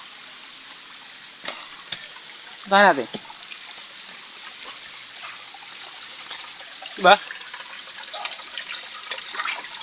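Faint water trickling steadily along a small stream in Barangay Bagong Nayon, Antipolo, with brief bursts of nearby voices speaking over it.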